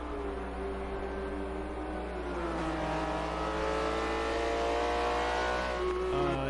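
Race cars during a WEC qualifying session at Mugello, a continuous engine drone whose pitch climbs and shifts as the cars accelerate through, heard from some distance with no talk.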